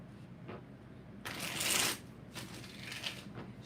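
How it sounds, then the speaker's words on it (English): A deck of tarot cards being shuffled, with a soft riffle, one loud swishing burst in the middle and a few shorter flicks after it, close up with no talk. "Let's shuffle this one."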